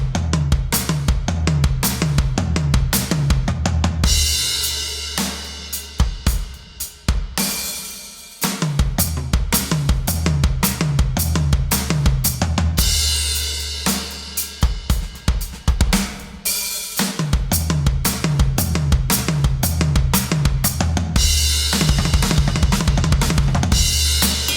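A drum fill in sextuplet groupings of three and four, finished with a crash cymbal and a right-left-right on the floor tom. Loud, dense rolling hits recur in bursts, with steady low tones underneath and no talking.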